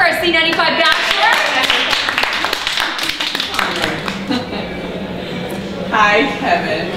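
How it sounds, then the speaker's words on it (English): Lively audience applause and clapping for a radio station's bachelor at a group date event, sustained through the stretch with cheering voices and people talking over it. "Round of applause for our C95 Bachelor."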